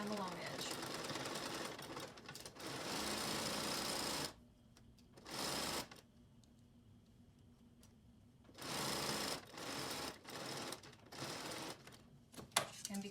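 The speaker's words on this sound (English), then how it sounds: "sew down the long edge" A sewing machine stitches down the long edge of a fabric face mask in several loud, steady whirring runs broken by quiet pauses. Close by, with a voice speaking at times.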